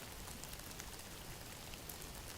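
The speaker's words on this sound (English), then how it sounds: "At first, a faint tap on the window, then a steady rhythm." Rain patters faintly against a window in a soft, steady hiss with scattered droplet ticks, quiet and even throughout with no voices.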